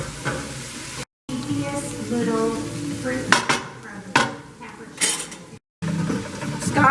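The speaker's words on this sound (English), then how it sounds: "He added his mushrooms and some more butter in with some of the rest of the onions" Mushrooms frying in butter with onions in a pan, with sizzling under clanks of a utensil against the pan and stirring strokes, and a voice talking at times.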